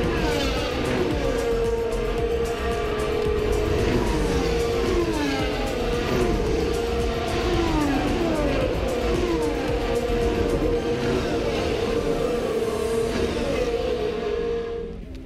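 Formula 1 cars race past at the 2021 British Grand Prix at Silverstone, a continuous loud roar with rising and falling engine pitch as several cars sweep by in quick succession, no voices.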